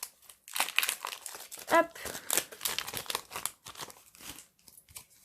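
Crinkling foil wrapper of a Pokémon Sun & Moon booster pack being worked open and torn, a run of close crackles and rips, with someone speaking briefly.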